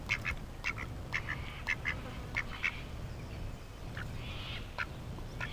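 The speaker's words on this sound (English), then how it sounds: "Here comes the duckies." Ducks quack close by in a quick string of short calls, with a few more later after a short lull, over faint outdoor background noise.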